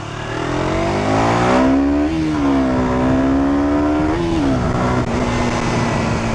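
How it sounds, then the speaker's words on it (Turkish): KTM 125 Duke motorcycle engine revving hard during a downshift, a loud, close, sustained buzzing note that climbs, dips briefly and climbs again before settling, with no talking over it. "vites düşürürken gaz veriyorum"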